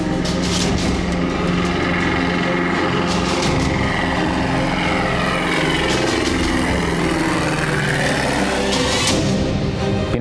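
A small propeller airplane drones steadily and loudly throughout, its engine roar holding on the way out to a high landing strip in a remote Alaskan mountain valley, with no voices.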